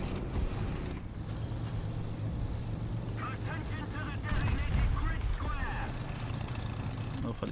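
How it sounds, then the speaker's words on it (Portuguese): An explosion booms in a tank combat video game, with heavy broadband blasts near the start and a louder rumble midway amid continuous battle noise, and someone talks over it. "Eu falei, cara, essa explosão aí."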